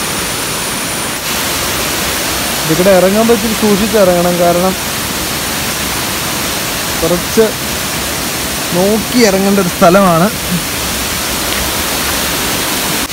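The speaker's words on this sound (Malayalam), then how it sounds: "നമ്മൾ വെള്ളച്ചാട്ടത്തിൻ്റെ തൊട്ട് താഴോട്ടെത്തി." Urulikuzhi waterfall at Mamalakandam pours with a constant broadband hiss of rushing water, while a person talks over it in a few short bursts.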